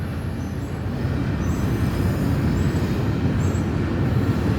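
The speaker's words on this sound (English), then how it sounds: "The train is going by right now." A passing train rumbles steadily and loudly with a deep rolling roar, faint high squeals from the rails riding on top.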